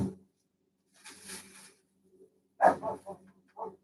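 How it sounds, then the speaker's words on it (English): A dog barks a few times in short, separate bursts, fairly close, with quiet gaps between them. "what are you barking at?"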